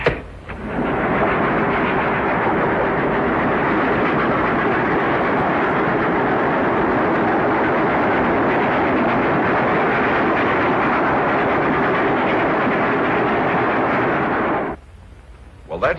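A train rumbles steadily and loudly for about fifteen seconds, a broad continuous roar that cuts off sharply near the end, in the setting of a classic TV crime drama.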